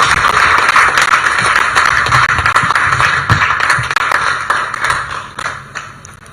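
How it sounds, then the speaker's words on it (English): An audience at the live 2024 UACE results release claps for the Minister of Education and Sports, a steady dense crowd applause that holds for several seconds, then thins and fades toward the end. "Can I ask all of us to clap for our dear minister before I invite her?"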